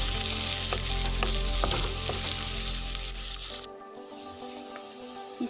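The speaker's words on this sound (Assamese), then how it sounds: "গোটা জিৰা, পিঁয়াজ, তেজপাতখিনি একেলগে ভাজি ল'ম।" Cumin seeds, chopped onion and bay leaves fry together in hot oil with a loud, dense sizzle and occasional stirring scrapes; the sizzle drops away abruptly partway through to a much quieter hiss.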